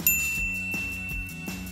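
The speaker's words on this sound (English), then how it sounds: "ring the bell to be notified about our latest videos" A bright notification bell ding rings out with a clear sustained tone, decaying gently under a short repeating soft musical backing pulse.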